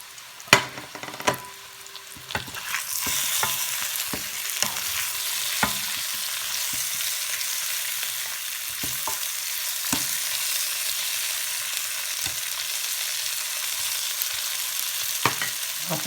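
A whole red capsicum hits hot oil in a pan with a sharp burst, then sizzles and fries steadily and loudly, with scattered stir clicks and scrapes over the hiss.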